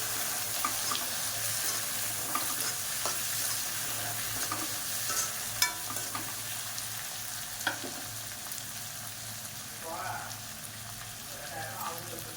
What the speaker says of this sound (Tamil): தக்காளி போட்டு நல்லா வதக்கிக்கலாம்.